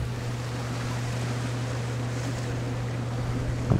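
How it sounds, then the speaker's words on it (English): Steady wind noise outdoors during a DJI Mavic 2 drone flight, a constant broadband rush with a sustained low hum beneath it and a short louder gust at the end. "The wind has picked up quite a bit."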